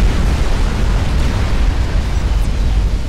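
A commander unit blows up in the Supreme Commander strategy game, a sustained deep rumbling boom with heavy low-end roar that holds steady for about three seconds.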